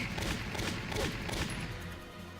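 Gunfire in the video game Valkyria Chronicles, a quiet, rapid flurry of shots and bursts heard faintly beneath the game's background sound, with no voices.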